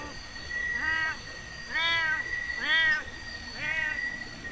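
A cat meows four times in a slow, evenly spaced series, each call drawn out and moderately close, at a creepy, muddy and slippery spot outdoors, over a faint steady hiss of ambient noise.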